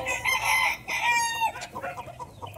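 Sweater-line gamefowl roosters crow and cluck close by on a game farm, with loud overlapping crowing calls giving way to softer clucking and farm background noise.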